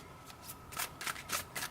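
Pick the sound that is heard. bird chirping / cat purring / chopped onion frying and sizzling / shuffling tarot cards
shuffling tarot cards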